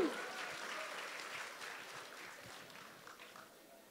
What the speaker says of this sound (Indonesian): Siap, boleh tepuk tangan untuk Kang Ikhwan.